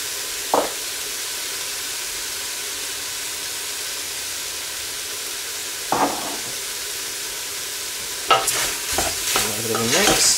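Cinnamon and other spices cook in a hot pan for lamb tagine, giving a steady frying hiss broken by a few sharp stirring scrapes and a louder burst of sizzling toward the end, with no talk.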